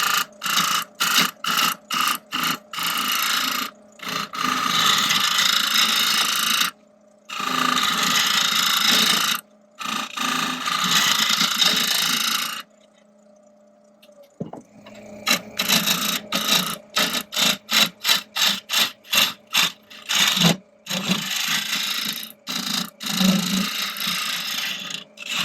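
A wood lathe turns a small round oak tray, with bursts of scraping and rasping from the cut broken by sharp gaps of silence and a brief quieter motor hum between passes.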